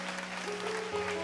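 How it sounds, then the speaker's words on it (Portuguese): A church congregation claps briefly in a Baptist service, a dense, moderately faint patter with sustained musical tones behind it. "Vamos aplaudir a Jesus o mais forte que pudermos essa noite."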